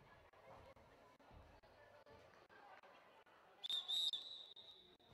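A referee's whistle starts a girls' football match, a sharp shrill blast rising over the murmur and chatter of a crowd near the end.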